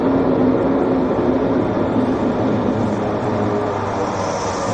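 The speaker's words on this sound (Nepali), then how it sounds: "एउटा प्लेन ल्यान्ड गर्ने क्रममा छ, आइरहेको छ, हेर्नुहोस् फरबाट देख्न सक्नुहुन्छ। ल ल्यान्ड गऱ्यो" A small propeller plane landing at Lukla airport in Nepal gives a loud, steady broadband engine roar that holds constant and close throughout, with no talk over it.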